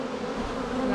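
Dense, steady buzzing of many honeybees in a hive close by, a continuous droning hum with no pauses.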